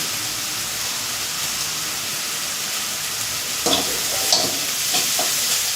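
Cumin seeds in hot oil give a steady, even hiss at moderate level, joined after a few seconds by several brief louder crackles and spatters as they sizzle.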